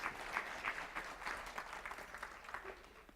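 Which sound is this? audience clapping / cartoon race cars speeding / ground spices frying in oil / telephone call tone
audience clapping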